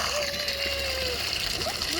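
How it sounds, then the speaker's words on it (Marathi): A forceful stream of water pours into a bucket, making a loud, continuous gushing splash close by while people talk over it. "फोर्स बघा पाण्याचा किती आहे"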